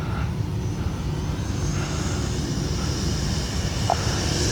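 An RC model L-39 jet aircraft flies overhead with a steady, loud whooshing engine roar that holds fairly even throughout, with no talk over it.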